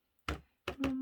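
Keys pressed on a calculator, three quick tapping clicks with short gaps between them, close and faint, no talk.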